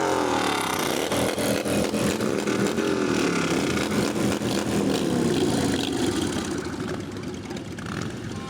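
Loud, droning engine roar from motorcycles passing in a fall fair parade, rising and falling as they go by, with a harsh buzzing tone throughout.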